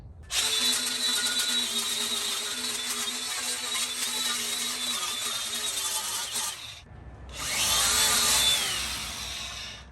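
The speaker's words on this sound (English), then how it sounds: "I'm gonna break out my DeWalt angle grinder with that abrasive disc, and I'm just gonna go over mainly all over the welding areas" DeWalt angle grinder with an abrasive stripping disc grinding weld spatter off a welded steel spring compressor stand, a loud continuous high-pitched whine for about seven seconds, a brief pause, then a second close pass.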